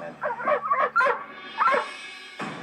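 Bower, a dog, gives a run of short yips and whimpering barks at close range, rising and falling in quick bursts with brief pauses between them.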